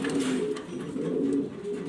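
Jorna shorting pigeons, an uncommon fancy breed, cooing continuously at close range in a steady layered drone with soft rising and falling throaty pulses and no talking.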